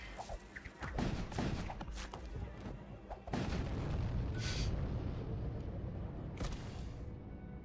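Ship weapons fire in the space combat game Void War as a run of deep booms and sharp blasts, with several bursts overlapping and a rumbling tail, fairly quiet overall and without speech.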